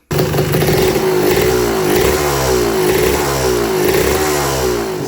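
A vintage Suzuki RM 125 two-stroke motorcycle engine runs steadily and loud, its exhaust sounding muffled and soft, with rhythmic revving swells and some mechanical clatter throughout.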